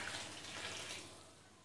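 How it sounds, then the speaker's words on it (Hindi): Water pours steadily into a pot of puffed rice, a soft continuous gush that tapers off toward the end, fairly quiet and close. "इसे पूरे अच्छी तरह से डूब जाए इतना पानी डालेंगे हम इसमें"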